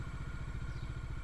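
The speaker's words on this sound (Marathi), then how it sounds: "तर बाईक आपली स्टार्ट झाली" A motorcycle engine idling steadily right after starting, a low rhythmic chugging pulse with a faint mechanical clatter, quiet and continuous.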